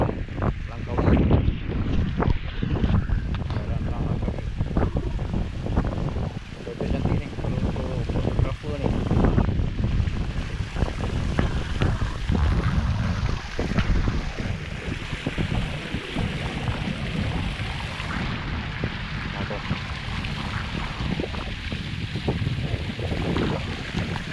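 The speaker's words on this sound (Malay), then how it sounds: "Tapi berangin okey lah" Wind blows hard outdoors on the water near a boat, roaring and gusting into the microphone over waves for the whole stretch, with voices talking underneath.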